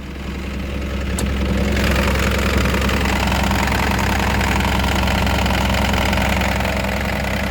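A replacement engine idles steadily at its lowest throttle setting, a continuous loud low-pitched hum with no audible shaking or stumbling, running alone without voices throughout.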